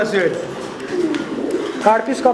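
Fancy pigeons cooing nearby in soft, low, rolling calls, heard under steady talk from people close by.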